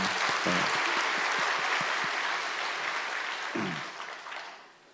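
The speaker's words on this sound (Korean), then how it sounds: "우리 그분들께 격려와 감사의 박수 드리도록 하겠습니다." Congregation applause in a Sunday church service, a full, loud burst of clapping that stays dense for a few seconds, then thins and fades out, with a brief voice partway through.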